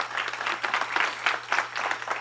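Churchgoers clap in an indoor service, the applause sounding thinner and uneven with distinct bursts of hands rather than a dense roar, fairly close and without speech over it.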